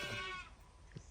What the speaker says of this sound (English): the sheep have been here for 3 days